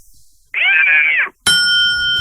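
A person voices a drawn-out, wavering meow in imitation of an angry cat, loud and close, followed by a bright ringing tone.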